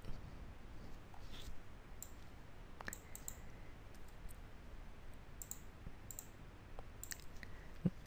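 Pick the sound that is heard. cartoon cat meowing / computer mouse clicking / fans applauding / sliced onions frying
computer mouse clicking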